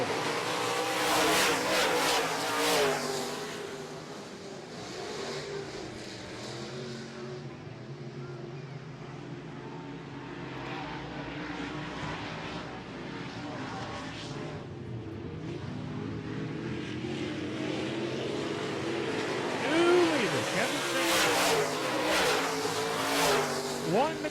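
Modified race cars on an oval track, engines roaring past in repeated waves, some near and loud, others more distant, with a race announcer talking throughout.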